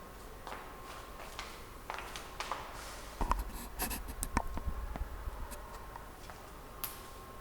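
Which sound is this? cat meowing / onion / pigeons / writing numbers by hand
writing numbers by hand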